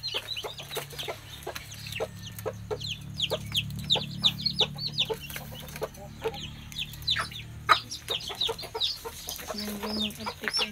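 A hen clucks repeatedly in short, close bursts near her eggs, with other chickens faintly around and a low hum beneath.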